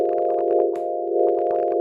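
A synth pad widened with the Stereoized stereo preset holds a steady, bright sustained tone, with faint rhythmic flutters and clicks in the background, played alone without any voices.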